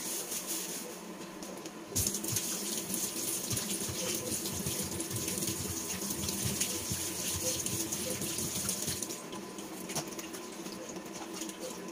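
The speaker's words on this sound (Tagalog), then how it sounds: "hinuhugasan ko munang mabuti sa running water" Food is rinsed under running tap water, a steady loud gush and patter that starts abruptly, flows evenly for about seven seconds, then drops back to a quieter trickle.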